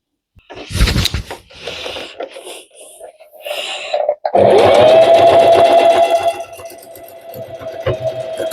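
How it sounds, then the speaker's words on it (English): A sewing machine stitches up the opening of a baby crib sheet with a normal stitch, starting after a few handling clatters and running loud, close and steady in a continuous buzzing whir. "Then we're going to sew up this opening with normal stitch."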